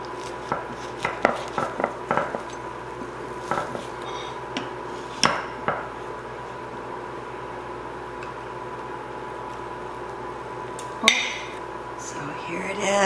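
A knife cuts into a crispy, browned stuffing meatball pizza casserole, giving a run of sharp crunching taps close up in the first few seconds and then a lone crunch later in a quiet room.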